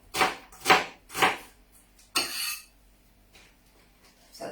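Finely chopped small red onion tipped off a board into a bowl for guacamole and salsa, three quick scraping clatters followed by a longer scrape and a soft tap, all close and alone.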